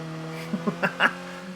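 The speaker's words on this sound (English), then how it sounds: "this thing sucks going uphill. Listen to it revving." An in-game car engine in State of Decay 2 hums steadily while climbing uphill, rising in a few quick, strained revving bursts, close and fairly loud.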